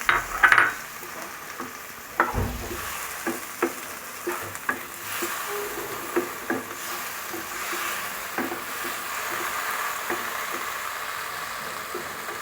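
Tomatoes tossed into a frying pan of potato and eggplant for a vegetarian Bengali dish, with a steady sizzle of frying and repeated scraping stirs and clinks of a spoon against the pan, close and clear.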